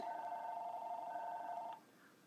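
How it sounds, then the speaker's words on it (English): A house phone rings indoors, one sustained electronic trill lasting nearly two seconds, fairly faint and then cutting off into quiet room tone. "Somebody trying to call my house phone."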